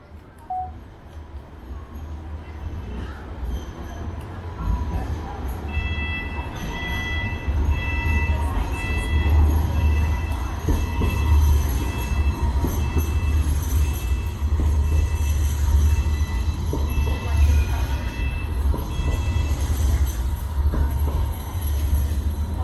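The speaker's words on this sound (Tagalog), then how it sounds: "Tren na yun." A train rumbles steadily past near a shopping mall in Sydney, Australia, with a low, continuous roar and metallic rattling, with a faint high squeal and a few brief tonal beeps over it.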